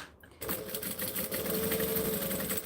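A sewing machine top stitches and back stitches a pocket, its steady rapid needle chatter running close and loud after a brief pause, with no talk over it.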